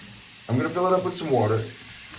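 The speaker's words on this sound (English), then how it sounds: "So I'm going to fill it up with some water." Tap water runs steadily into a slow-draining household sink, a continuous rushing hiss, with a voice speaking over it.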